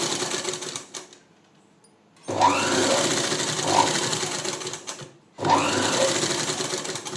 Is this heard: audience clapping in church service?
no